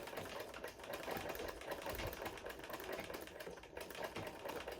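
A sewing machine backstitches a hem on fabric for a Yoruba iro and buba outfit, a steady fast rattle of stitching running nonstop, quiet and close, with no talk.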